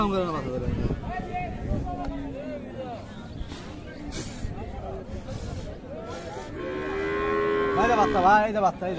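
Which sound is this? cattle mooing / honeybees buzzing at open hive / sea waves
cattle mooing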